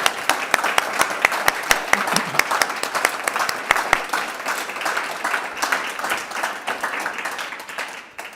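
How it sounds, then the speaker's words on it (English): After a book talk about caribou in Alaska, the audience breaks into a round of applause, crisp distinct claps up front over a thick crowd wash that gradually thins and fades toward the end. "Let's give him a round of applause."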